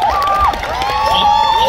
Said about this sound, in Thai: ขอเสียงปรบมือให้กับทุกคนด้วยน